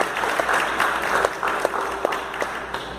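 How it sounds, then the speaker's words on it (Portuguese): Church congregation applause at a Baptist youth service, a steady wash of many hands clapping with occasional sharper slaps standing out, fairly close and full, lasting throughout with no speech over it. "Dá outra salva de palmas"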